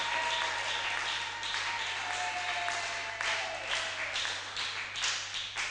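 A church congregation applauds the Lord at a seminar service, a steady patter of clapping with scattered taps throughout, moderately distant and fairly quiet, with no talking over it.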